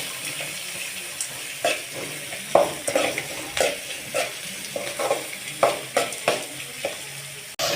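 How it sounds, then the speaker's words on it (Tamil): Onions and dried red chillies sauté in a pan, giving a steady sizzle broken by repeated scraping strokes of a spoon stirring, close and fairly loud. "இப்போ நம்ம வந்து வெங்காயத்தை போட்டுக்கலாம். இப்போ நம்ம வதக்கிக்கலாம்."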